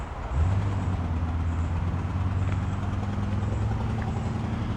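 A rough, uneven 1956 Evinrude outboard engine with a blown spark plug rumbles steadily with a lumpy, loping rhythm, starting abruptly and holding at a constant low drone.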